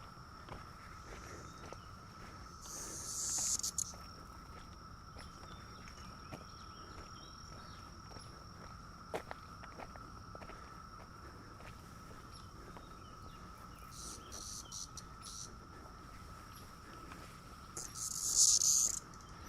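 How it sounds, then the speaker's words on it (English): Cicadas buzz in two loud, harsh swells that rise and fade by a duck pond at Fort Harrison State Park, over a steady background drone of insects and occasional footsteps. "Cicadas are really bad over here."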